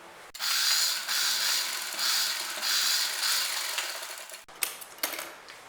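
Domestic sewing machine stitching a seam in girl's skirt fabric, a steady mechanical whirring run for about four seconds, close and fairly loud, then stopping into a few short clicks and rattles.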